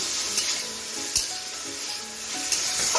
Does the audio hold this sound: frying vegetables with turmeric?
yes